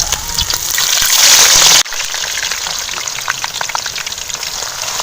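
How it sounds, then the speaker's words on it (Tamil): Potato slices fry in hot oil, a loud, dense hiss and crackle that cuts off abruptly and then carries on as a quieter, steady bubbling sizzle with scattered pops. "இப்போ உருளைக்கிழங்கை வந்து எண்ணெயில் போட்டு பொரிச்சிக்கலாம்."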